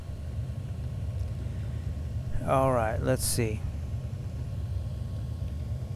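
A low, steady car engine idle in the game Second Life rumbles throughout, with someone speaking briefly over it in the middle.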